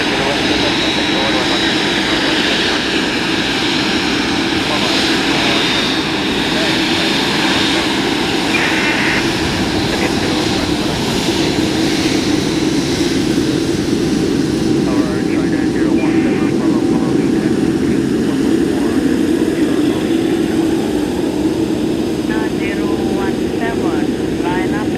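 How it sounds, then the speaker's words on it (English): A jet airliner, a 747-8 or 757, taking off from runway 27 gives a loud, continuous roar that swells and holds across the whole stretch, with radio voices from the tower heard now and then. "line up and clear for takeoff runway 27"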